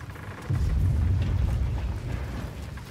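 Frag grenade explosions rumble in the Call of Duty: Infinite Warfare campaign, a deep, muffled boom swelling after a brief lead-in and fading into a low roar, loud and without talk.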